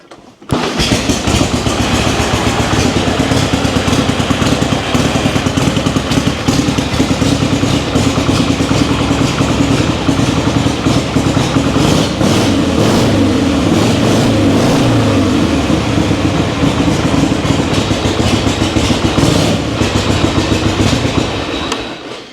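A Harley-Davidson Panhead motorcycle engine runs loud and close after warming up, a continuous rough, thumping idle with a fast pulsing beat that holds steady throughout before cutting off at the end.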